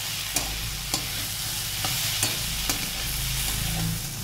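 Mashed cauliflower bharta frying in a pan, stirred with a spatula: a steady sizzle broken by five or six sharp scraping knocks at a regular rhythm, close and loud, no talk.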